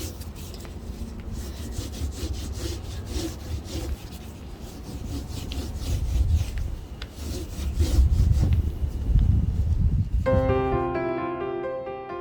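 A hand or cloth rubs Zinsser primer into a chipboard tabletop with steady, close scrubbing strokes that grow louder, ending in a brief tonal ring.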